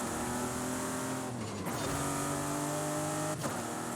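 Car engine in Forza Horizon 5 driven on a custom track with a Moza R5 wheel, a steady near drone with harmonic whine shifting pitch as it revs up and down through gear changes, tires faintly squealing, no talk.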